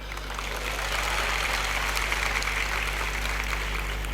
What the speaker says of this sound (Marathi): आत्ता जशा तुम्ही टाळ्या वाजवल्यात ना